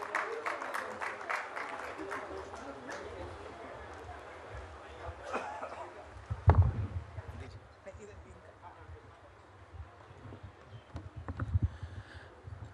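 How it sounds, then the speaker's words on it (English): An audience applauds at a live business budget roundtable event, the clapping fairly faint and patchy and fading out, with speech and chatter mixed in. "A big round of applause,"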